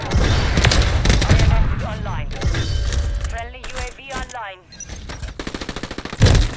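Rapid automatic gunfire from a video game shooter rattles in dense bursts, broken by pauses, glassy shattering and mechanical clicks, with someone talking over and between the shots.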